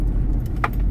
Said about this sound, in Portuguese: Tem só o barulho do chaveiro aqui